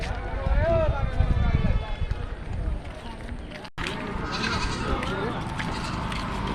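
Goats bleat at a busy outdoor goat market in Dhulabari, wavering cries mixed with crowd noise, movement and nearby voices.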